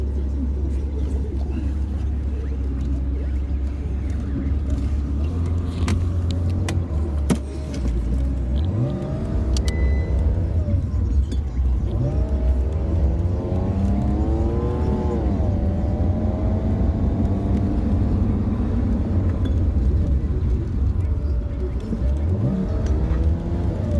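A Jeep JK fitted with an ARB locker drives along a road, its engine a steady low rumble throughout with rising and falling revs through gear changes and a brief dip midway.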